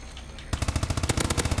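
Automatic weapon fire in the video game Call of Duty: Advanced Warfare, a rapid, loud burst of shots in a steady rhythm that starts abruptly after a brief quiet moment.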